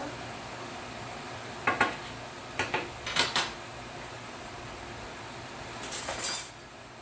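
Metal utensil scraping and clinking against a pan while scooping chicken puttanesca and its drippings, a few short scrapes spaced apart followed by a longer scrape near the end, over quiet kitchen background.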